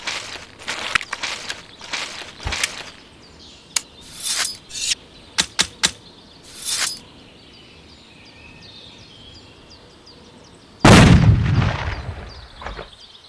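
Rifle shot in the hunting video game Hunting Unlimited 2010 cracks out loud and sudden near the end with a booming tail, after a stretch of scattered footstep-like thuds, faint bird calls and insect ambience.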